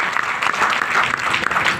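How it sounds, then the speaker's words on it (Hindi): Enthusiastic applause from an audience at a business plan presentation, a dense steady burst of clapping filling the whole moment with no one speaking over it. "इसलिए आपके लिए भी एक बार जोरदार तालियां, अच्छे से तालियां बजाना"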